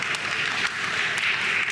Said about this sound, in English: I would expect you to be applauding that.